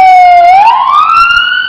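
A loud, close siren sweeps upward in a single rising wail, clear and piercing over faint road noise.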